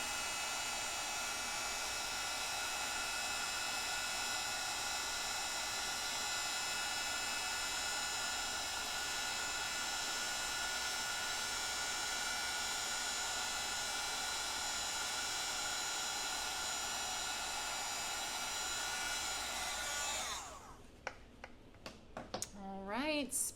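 An embossing heat gun blows hot air in a steady, close, loud whooshing whine with a constant tone that runs for about twenty seconds, then cuts off as a voice begins speaking.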